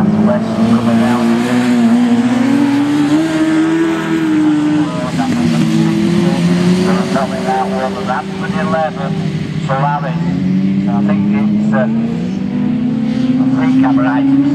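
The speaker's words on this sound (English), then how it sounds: "only three cars come off the line" Race cars launch off the starting line at a Nottingham race meeting, engines roaring loudly and rising in pitch with tire squeal, while a commentator talks over the noise throughout.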